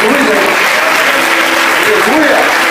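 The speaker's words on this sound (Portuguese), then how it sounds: "Vamos aplaudir, irmão, para Jesus" Congregation in a Brazilian evangelical church applauding for Jesus during a Friday service, a loud, dense wash of clapping sustained throughout, with voices mixed in beneath it.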